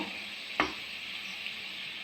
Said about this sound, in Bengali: পাল্টে ভালো করে ভাজা করে নেব